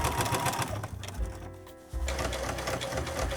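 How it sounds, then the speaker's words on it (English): A sewing machine stitches around a pant hem in quick, buzzing runs, pausing briefly in the middle before resuming at a steady, close, clattering pace. "Stitch all the way around the hem."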